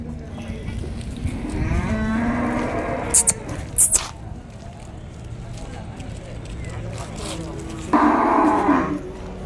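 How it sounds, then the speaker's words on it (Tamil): Calves low at the Vaniyambadi cattle market, close and loud, with two drawn-out moos amid crowd bustle, clatter and someone talking. "இங்கே ஒரு மூணு கண்ணுக்குட்டி இருக்குது"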